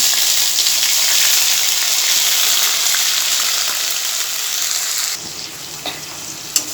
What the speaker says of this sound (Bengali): দেখো মশলাটা আমি দিয়ে দিয়েছি। মশলাটা আবার একটু কষিয়ে নেব